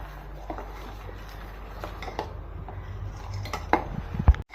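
A spoon stirs sugar and roasted nuts into bottle gourd payasam in a pot, making quiet, intermittent metallic clinks and soft scraping against the pot, with a slightly louder knock near the end.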